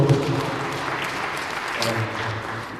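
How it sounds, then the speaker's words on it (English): An audience at a crime indaba conference claps in sustained applause, a dense, even patter of many hands filling the room from start to finish, with a voice briefly audible underneath. "A round of applause, ladies and gentlemen"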